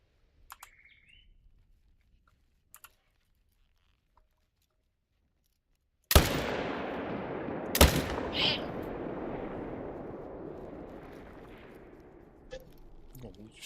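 In the game Hunter Call of the Wild, a single loud rifle shot cracks out after a quiet stretch and rolls away in a long fading echo. A second sharp report follows soon after, with faint ambient sounds around it.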